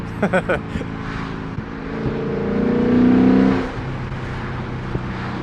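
A V8 car engine with headers and a modified exhaust idles with a deep rumble, then revs up loudly for a second or two before settling back, with a voice talking briefly at the start.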